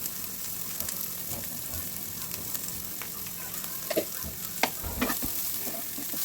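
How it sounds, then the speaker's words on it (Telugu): Chopped onions with a pinch of salt fry in a pan with a steady close sizzle, and a few scraping stirs come later on. "ఇప్పుడు ముందు వేసిన ఆనియన్, చాప్డ్ ఆనియన్ ఇవన్నీ కూడా ఒకసారి మంచిగా ఫ్రై చేయండి"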